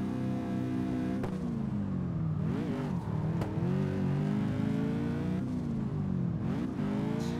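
A car drifts on the Akina mountain pass in CarX Drift Racing online, its engine revving hard and steadily close up, with the pitch rising and dropping as the throttle and gears change.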